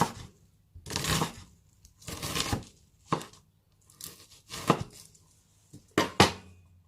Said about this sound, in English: Now I'm turning the onion, using claw grip again to dice the other way.